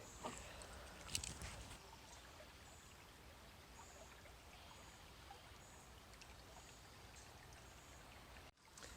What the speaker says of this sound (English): you can hear these beautiful sounds of the babbling brook